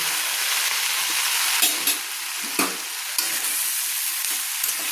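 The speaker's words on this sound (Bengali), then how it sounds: "দিয়ে আমি ভালো করে নেড়ে নিচ্ছি" Spices with Kashmiri chili powder stirred in a frying pan for a Bengali fish curry, a steady close sizzle broken by a few scraping stirs, with no talk.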